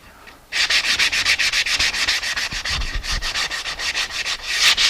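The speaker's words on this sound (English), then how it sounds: "I'm just going to clean it up with a little bit of sandpaper." Hand sanding a tiger maple raised panel with 180-grit sandpaper: brisk, rhythmic back-and-forth scratchy strokes, close and loud, about twenty even passes with no voices.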